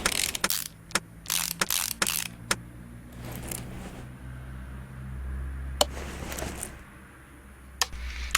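Ratchet clicks from Car Mechanic Simulator 2018 as bolts are removed from a manifold, in several quick bursts of loud, close mechanical ratcheting spread through the opening seconds, then two more isolated clicks over a low game engine hum.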